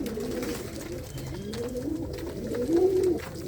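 Pigeons coo in a loft in Ludhiana, overlapping low rolling calls close by and continuous, one growing louder near the end.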